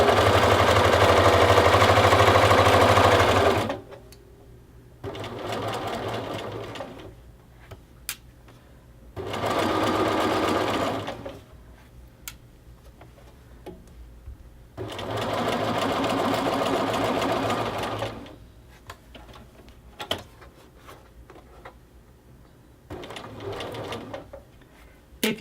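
A sewing machine stitches a knit jacket sleeve seam in bursts of loud, steady whirring, with pauses of quiet handling between runs.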